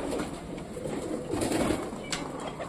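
Pigeons coo softly in low, burbling murmurs close by, with a brief rustle partway through and no one talking.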